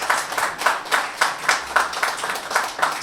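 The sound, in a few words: audience applause for panelists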